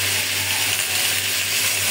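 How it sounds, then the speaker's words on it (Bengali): A small duck sizzling in hot oil in a kadai, a steady broadband frying hiss holding evenly close up with a low hum beneath and no talk. "এখন আমি হাঁসটা ভালো করে আগে একটু ভেজে নেব"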